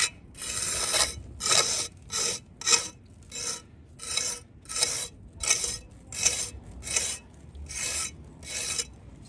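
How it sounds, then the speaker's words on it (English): A steel trowel edge scrapes along fresh mortar on a stone parapet in repeated rasping strokes, about a dozen evenly spaced close-up passes with brief pauses between them and no talking. "scrape it all the way up. You can use, probably could use the edge of the trowel if you want"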